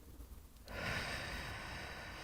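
A short, forceful breath blown out during a breathing exercise, a single close puff of air after a brief quiet inhale, with the exhale trailing off.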